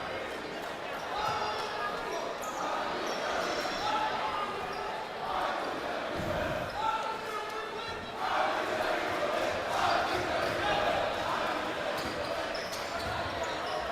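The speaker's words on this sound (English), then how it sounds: "And MTA crowd chanting, "I believe that we will win."" A basketball crowd at a college tournament game chants rhythmically in the stands, with cheering swells, a commentator talking over the noise and occasional ball bounces in the gym.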